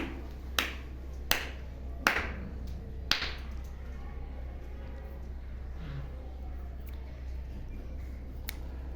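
A schoolboy claps his hands in a classroom number-counting game: a few sharp, separate claps spaced roughly a second apart near the start, then quiet room tone with a low steady hum.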